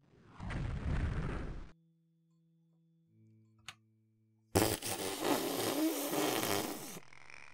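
Fire spell cast by a wizard in the game Daggerfall: a loud whooshing burst, then quiet tones and a short pop, then a second sustained roaring blast that rumbles for a few seconds.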